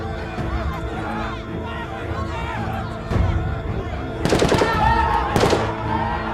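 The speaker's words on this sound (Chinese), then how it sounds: "谁在开枪？" Several sharp gunshot bursts ring out in a tense drama scene set amid war and an epidemic zone, two loud volleys landing in the second half over a steady murmur of crowd noise and voices.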